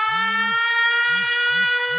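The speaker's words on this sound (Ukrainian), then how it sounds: "Увага! Повітряна тривога." Ukrainian air raid siren wailing steadily and loudly on New Year's Eve 2022, a sustained droning tone with a low pulsing whoop repeating beneath it, close and continuous.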